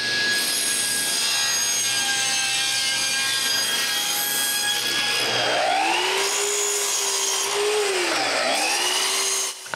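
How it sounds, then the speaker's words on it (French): Hand saw cutting wooden braces for a folding outdoor workbench, a steady rasping stroke that continues through the clip with a droning hum in the background, no speech. "Après avoir coupé les bras de force,"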